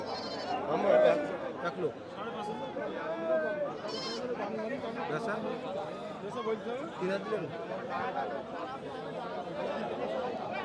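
Goats bleating repeatedly at a crowded village livestock market, with wavering cries over a busy chatter of many voices and people bargaining nearby.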